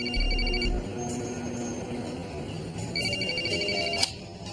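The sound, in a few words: telephone ringing with an incoming call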